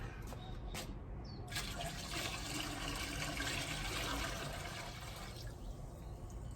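Water pours and splashes steadily into a bucket beside a smoker, a continuous close rush of liquid filling the container that tapers off near the end.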